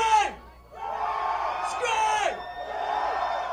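A rock concert crowd screams and whoops loudly on request, a sustained wall of many voices in a large venue with a brief dip before swelling again.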